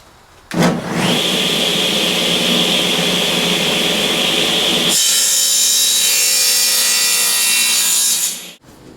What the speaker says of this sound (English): cross cut using the miter gauge on a table saw